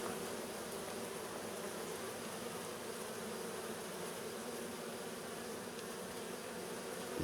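A continuous droning buzz of insects near a beehive, a European hornet's hum among many bees, steady and fairly close, with no talking.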